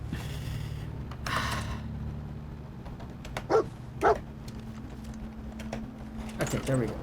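A dog in Fallout 4 barks a few sharp, separate times over a low background hum, with someone talking briefly in between.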